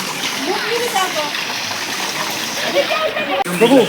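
Water at the holy Sitakunda bathing pond at Unakoti splashes and trickles steadily at close range, under nearby talking and children's voices.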